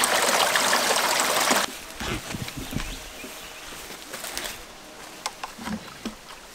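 Creek water flows and trickles, a loud rushing wash at first, then softer bubbling and dribbling up close, with no talk.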